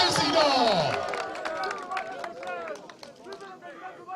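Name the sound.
crowd applauding at a political rally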